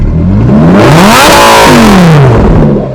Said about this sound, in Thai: แล้วเดี๋ยวต่อมาผมให้ฟังเสียงของเครื่องยนต์ดีกว่า